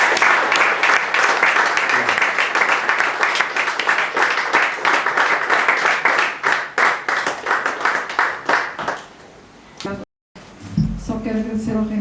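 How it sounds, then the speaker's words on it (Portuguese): An audience applauds at a book presentation, with dense rhythmic clapping that tapers off after about nine seconds, followed by a brief gap and then a voice speaking. "Palmas para Fátima Soares."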